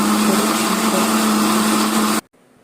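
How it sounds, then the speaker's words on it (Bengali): An electric mixer whirs steadily as it blends mango juice with powdered milk, sugar and cold water, a loud droning motor hum that stops abruptly near the end, leaving near silence. "ঠান্ডা পানি দিছি, মিক্সার বয়েল করে নিছি"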